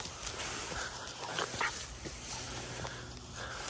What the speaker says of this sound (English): I love these little dogs.